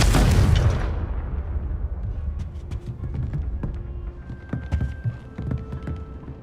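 A loud burst from the Confringo fire spell in Hogwarts Legacy erupts at the start and fades into crackling debris and scattered impacts, with faint tonal game effects lingering afterward.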